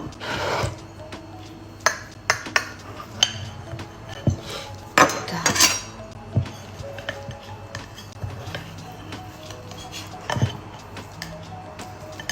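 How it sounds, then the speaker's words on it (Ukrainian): A knife and serving utensils cut through a warm pumpkin zebra casserole in a baking dish, with scattered metallic clinks and taps of varying loudness, close by. "Пробую охайно розрізати."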